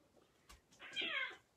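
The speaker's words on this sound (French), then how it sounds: "il y a une bataille de chats derrière" A cat outdoors behind the house lets out a single drawn-out, strained meow-like wail during a fight, faint and somewhat distant, preceded by a soft thump.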